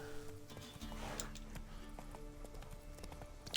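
Roach, a horse in The Witcher 3 video game set in Velen, trots with soft, fairly close hoof clops over ambient game sound, with a faint neigh possible.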